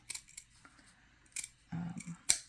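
Scissors snip through fabric trim on an altered paperclip craft: a few quick, close, crisp cuts, with small rustles between them in an otherwise quiet room.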